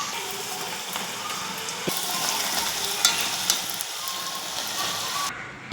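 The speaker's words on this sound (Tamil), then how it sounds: "இப்படியே கொஞ்சம் கொஞ்சமாக போட்டு வறுத்து எடுக்கணுங்க" Maida chips deep-frying in hot oil give a continuous dense sizzle with crackling bursts and occasional stirring scrapes, heard close and alone before the sound drops away at the end.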